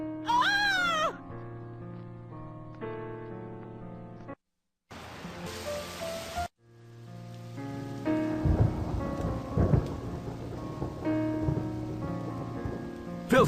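Thunderstorm with steady rain and gusting wind in the And Then There Were None video game, mixed with tonal music and brief gaps, with deep rumbles running through the louder later stretch.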